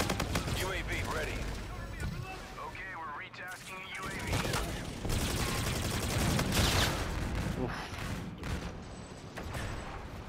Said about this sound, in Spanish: Hay una torreta aquí.